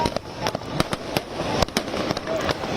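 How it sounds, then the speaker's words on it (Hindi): Grand fireworks display at a celebration in Ujjain, India: repeated sharp bursts and crackling pops at an uneven rhythm over a steady crowd-like rumble, fairly distant and moderately loud. "भव्य आतिशबाजी"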